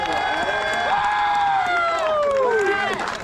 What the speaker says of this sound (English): everybody want to give another huge round of applause for these four guys here